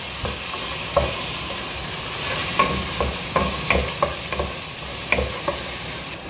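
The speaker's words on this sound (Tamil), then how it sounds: "அது ரெண்டையும் போட்டு கொஞ்சம் வதக்கிடலாம்." Onions and garlic sizzle steadily in a hot pan while a utensil stirs and scrapes, producing scattered clicks and taps over the constant frying hiss.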